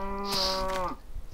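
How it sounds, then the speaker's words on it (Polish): A single drawn-out cow moo from the Minecraft video game, close and clear, lasting under a second before fading into quiet background. "Cicho, krowa."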